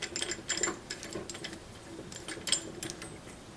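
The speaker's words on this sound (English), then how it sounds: "I can now tension the bolt simply by turning this ball screw" A 3/8-inch ball screw rock anchor bolt puller threaded onto a bolt is turned to tension it, giving faint, irregular mechanical ticks and clicks at close range with no talking.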